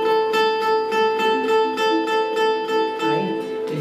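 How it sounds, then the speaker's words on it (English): Ukulele string plucked straight across with a fingernail, a close series of about eight bright, evenly spaced twangy notes with ringing overtones, played alone without talk. "If I pluck straight across the string, it sounds like this."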